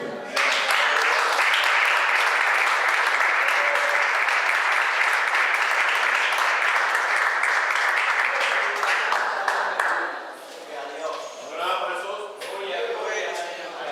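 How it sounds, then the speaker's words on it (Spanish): A church congregation breaks into sustained clapping after a closing prayer at an evangelical service. The full, even applause lasts about ten seconds before thinning out, and scattered voices and cheers trail off afterward. "Un aplauso."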